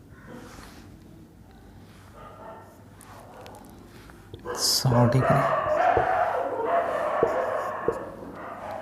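A dog barks outdoors in the background while a man lectures on geometry. Several loud, rough barks and yips burst in midway and recur under his continuous speech.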